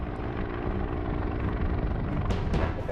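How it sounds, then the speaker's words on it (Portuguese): A helicopter roars steadily and close as it comes back down to the ground, its rotor and engine drone continuous and loud throughout. "Quando o helicóptero voltou ao chão"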